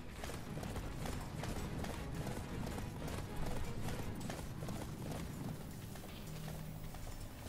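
Rapid, rhythmic hoofbeats of a galloping horse in the video game Attack on Titan: Wings of Freedom, continuous and fairly loud over a dense background.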